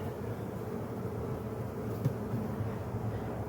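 Honey bees buzz steadily around a garden hive being prepared for winter, a dense, close hum with no pauses.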